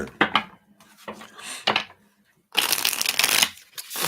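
Tarot cards shuffled by hand in bursts of crisp riffling and flapping, with a longer, louder riffle toward the end and brief pauses between, close and clear.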